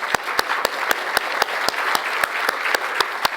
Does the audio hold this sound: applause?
yes